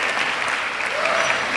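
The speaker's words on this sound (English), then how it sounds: "Let's give the cat a big round of applause" Applause for a performing cat at a Shedd aquarium show, a dense, steady wash of crowd clapping filling the whole stretch without pause.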